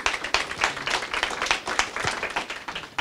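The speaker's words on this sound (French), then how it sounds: "Merci Marc, on peut déjà l'applaudir." A small conference audience applauds a speaker at a business talk, with irregular, distinct hand claps close by and fairly quiet, thinning out toward the end.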